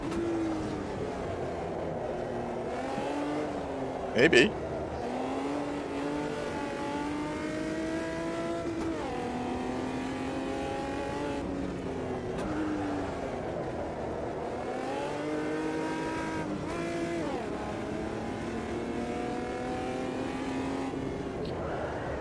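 A 90s DTM race car engine at Mugello in Assetto Corsa, loud and continuous, revving up and down through gear changes with rising and falling pitch, and a brief spoken word partway through.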